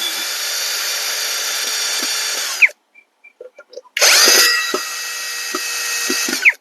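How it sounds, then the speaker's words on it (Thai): Yofidra cordless brushless 3-in-1 drill driving into wood, two loud, close bursts of high motor whine separated by a short pause with light knocks and handling clicks. "อันนี้เจาะไม้ครับ"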